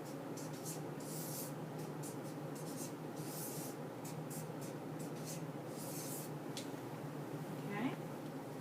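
A pen or pencil writes out a unit fraction on paper, making soft, faint scratching strokes in short bursts over a steady background hiss.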